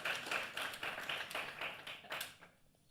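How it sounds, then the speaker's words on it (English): Audience applause at an interest rate debate event in Kenya as a panelist joins the stage: dense, steady clapping from a crowd that fades out near the end. "Let's give him a round of applause as he joins us on stage."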